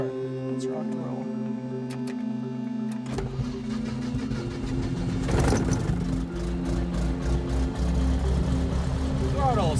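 Diamond DA40 aircraft piston engine cranking over and catching, then settling into a steady idle near 1,000 RPM, loud and close from the cockpit, with a rougher surge midway and speech over the running engine.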